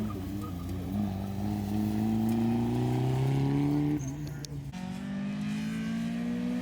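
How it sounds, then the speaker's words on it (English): A red Mazda Miata race car revs hard on a fast run, its steady engine note climbing in pitch, dropping briefly, then rising again, loud and continuous throughout. "a red Miata was making fast runs"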